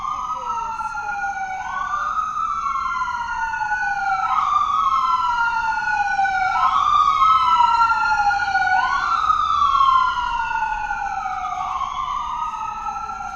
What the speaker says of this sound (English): It's a medical vehicle.